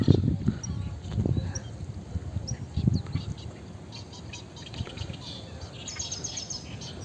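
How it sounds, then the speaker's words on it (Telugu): Many kinds of birds call around a large lake in an urban park in Warangal, with scattered chirps and tweets, some faint and distant, over low background rumble and brief voices. "రకరకాల పక్షుల సౌండ్లు మీరు వినొచ్చు వీడియోలో"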